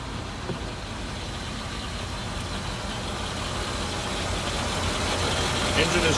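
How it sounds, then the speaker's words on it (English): Diesel engine of a 2002 GMC 7500 forestry bucket truck idling with the hood up, a steady, smooth low rumble that stays even and quiet throughout, with faint background noise and no speech over it. "Engine is running right now."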